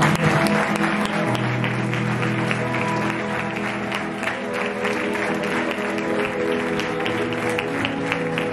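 A church congregation claps together steadily during worship, a dense continuous wash of applause with music and voices underneath.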